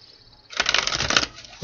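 A deck of tarot cards is shuffled in one short, close riffle, a brief dense rattle of papery clicks.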